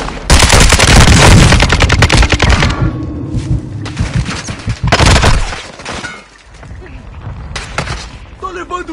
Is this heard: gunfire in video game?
yes